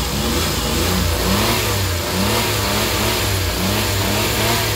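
A car engine revs repeatedly under throttle, loud and close, with rhythmic rises and falls in pitch over a steady running idle, no talk.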